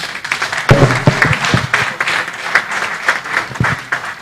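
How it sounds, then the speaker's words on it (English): Applause from the audience at an anniversary and new-member induction event, a dense, steady crowd clapping that carries on loudly throughout with no pause. "Another round of applause for Dr. Please"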